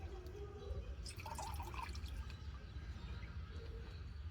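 Food being lightly rinsed with water, a faint, soft trickle and a few drips, quiet and close, with low background noise underneath.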